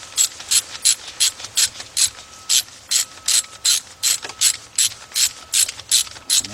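A hand ratchet loosens 13 mm bolts on a Jeep Grand Cherokee water pump, giving rapid, rhythmic clicking in a long run of about twenty even strokes, close and crisp with no voices.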